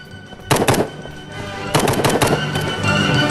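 Rapid bursts of gunfire in an online hide-and-seek shooting video game, two loud volleys of crackling shots starting sharply with a steady noisy backdrop between them.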